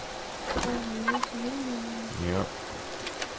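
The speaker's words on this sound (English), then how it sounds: "Tropical forest, it's gonna rain a lot. And it is heavy rain." Heavy rain in a tropical forest in the game Empyrion Galactic Survival makes a steady, even hiss throughout. Tonal, bird-like calls sound over it, and a voice speaks once.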